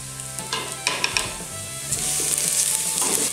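Chopped garlic hits sizzling diced onion in a pan for Valencian-style rice, a steady bright frying hiss with scraping stirs and light clicks of a utensil, growing louder and brighter as the garlic goes in.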